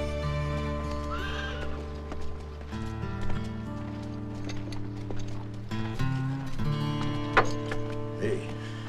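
A ridden horse neighs and whinnies repeatedly while its hooves clip-clop steadily underneath, close and fairly clear against a quiet outdoor background.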